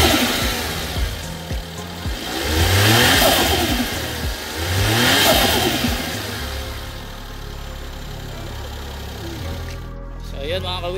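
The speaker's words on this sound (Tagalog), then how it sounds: "Vacuum ng turbo niya." A Suzuki DA64W turbo engine is revved twice in strong rising and falling bursts, then drops back to idle with a faint turbo vacuum whoosh, while someone speaks over it.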